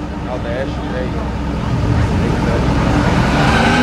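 A historic rally car, a Berlinette on the 2013 Monte-Carlo historic rally driven by Eric Carlson, approaches with a steady engine and road roar that builds gradually, with crowd and commentary noise mixed in throughout.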